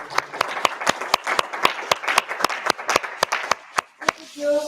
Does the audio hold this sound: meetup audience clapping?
yes